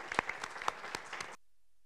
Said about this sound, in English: Could we give her a round of applause for her?